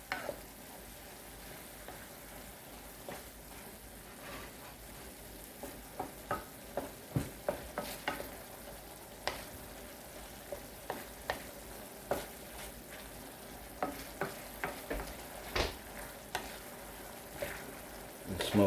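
Ground beef frying in a pan with bean paste, a faint continuous sizzle broken by scattered scraping clicks and taps as the mixture is stirred.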